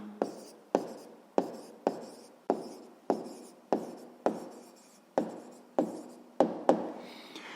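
Handwriting during a sixth-grade maths exercise: about a dozen evenly spaced strokes and taps of a pen on paper, close and clear with no talk.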